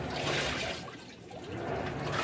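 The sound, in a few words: Samsung top load washing machine filling with water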